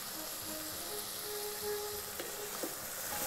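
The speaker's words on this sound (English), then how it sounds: "Let's fry this for 2 minutes." Ground spices and salt fry in an Instant Pot for curry, giving a steady, faint sizzle with a few soft scrapes and no talking.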